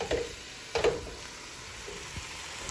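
Food sizzles steadily in a pan with a soft, continuous crackle, punctuated by a couple of brief utensil clicks.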